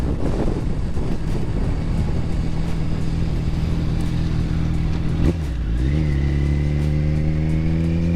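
A 2008 Yamaha FZ1 motorcycle rides along with a rumbling engine and wind rush against the microphone, then the engine note rises as it accelerates toward the end, close and loud.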